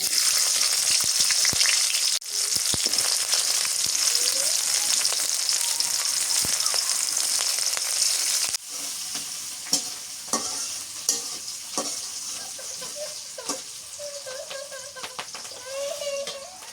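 Onion frying in a pan for a village-style fish curry, a loud continuous sizzle with scraping stirring strokes that turns softer and crackly partway through, close up.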